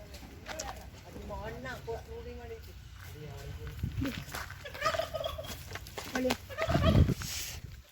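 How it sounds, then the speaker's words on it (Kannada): Chickens feeding outdoors near a historic temple, with repeated clucking and gobbling calls mixed under close conversation and a louder burst near the end. "ನೋಡಿ ತಿಂತಾವೆ ಕೋಳಿಗಳು"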